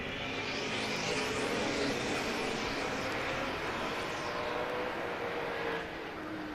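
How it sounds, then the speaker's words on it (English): Historic race cars, a big Corvette at the front, roar off the start toward turn one at Sebring, a loud continuous blended engine roar that rises and sweeps past, then eases slightly as the pack moves away. "And that big old Corvette leads them all down into turn number 1."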